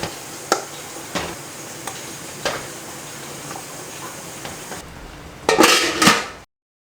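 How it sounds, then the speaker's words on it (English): Metal canning lids and screw rings clink and tap onto glass jars of home-canned pickles, a few sharp isolated ticks followed by a louder close burst of rattling metal and glass near the end. "Let me get the tops on with the rings and we'll get ready to throw them back in the canner."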